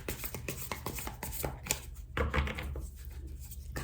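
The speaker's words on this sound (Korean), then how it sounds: "카드 섞고" Tarot cards shuffled by hand at close range, a steady run of soft papery riffles and taps with a low background hum, no talking.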